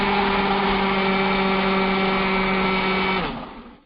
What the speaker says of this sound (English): I always put my blender back on the blender with soap and water in it and blend it in to help clean it out